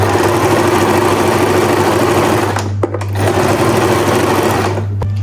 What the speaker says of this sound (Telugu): సో ఈ 2 సైడ్స్ నేను ఇప్పుడు డాట్ స్టిచ్ చేసేస్తాను.